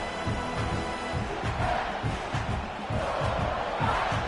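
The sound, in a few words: stadium crowd noise in college football video game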